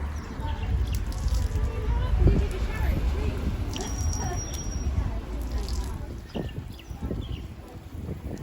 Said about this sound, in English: This is a surfer shower.